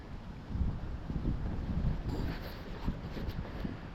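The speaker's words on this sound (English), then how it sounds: "but it's awful windy today." Gusty outdoor wind rumbles against the microphone in a yard beside a burn pile, a low, uneven buffeting that swells and eases at moderate volume with no one talking.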